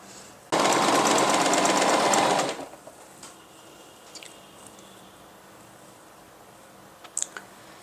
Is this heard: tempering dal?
no